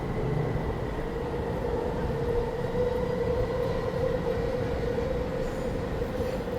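A sky train at a station gives a continuous loud rumble with a steady mechanical drone and hum, running throughout without voices.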